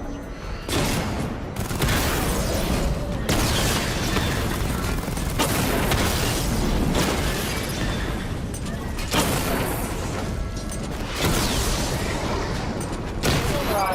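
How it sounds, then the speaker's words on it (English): Rapid volleys of missile blasts and booming explosions from Batman Arkham Knight, dense and loud throughout with brief dips between salvos. "Charge up missile barrage to level 2 and destroy 4 active targets to complete diagnostic test."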